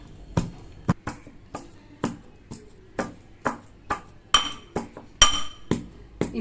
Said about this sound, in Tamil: இப்போ இடிச்சாச்சு, எடுத்து கொட்டிக்கலாம்.